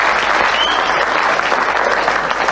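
Steady, dense applause from a large audience, loud and continuous throughout with no pauses.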